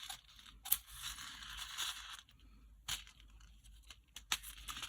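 Leftover paper pieces are torn and peeled from a handmade card box, heard as several short, close, crisp tearing and crinkling bursts with quiet gaps between them.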